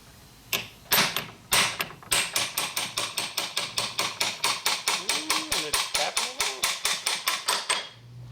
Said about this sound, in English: So we use brass punch on there and steel hammer here.